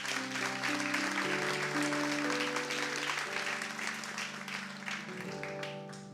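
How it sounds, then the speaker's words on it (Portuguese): A church congregation claps for the Lord during a sermon, sustained broadband clapping layered over held keyboard chords that shift pitch, steady and full for the whole stretch. "Pode aplaudir ao Senhor?"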